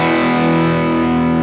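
An electric guitar plays through the Chase Bliss Brothers pedal's drive A channel. One thick, saturated, sustained chord stays loud and buzzing for its whole length.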